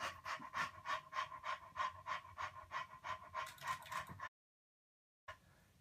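A child imitates a panting dog with quick, rhythmic huffing breaths, close and fairly quiet, about a dozen even pants before the sound cuts out.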